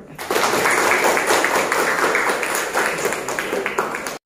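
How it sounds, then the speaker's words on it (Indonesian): A room full of people at an Indonesian school or teacher gathering bursts into applause, a dense, sustained wash of clapping that stays loud and even for around four seconds. "kita tepuk tangan dulu"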